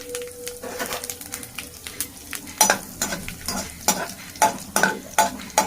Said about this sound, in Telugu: ఇప్పుడు మనం పోపుకి ఆయిల్, జీలకర్ర, ఆవాలు, కొంచెం మినపప్పు, శనగపప్పు, కరివేపాకు, ఒక 2 ఎండుమిర్చి